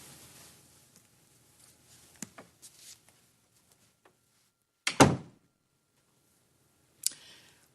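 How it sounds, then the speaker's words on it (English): An office door shuts with a single solid thunk, preceded by a few faint clicks and soft shuffles and followed by a lighter knock, all close and isolated in an otherwise quiet room. "Close the door."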